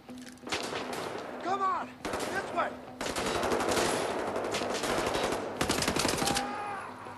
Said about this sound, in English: And now I also have an assault rifle.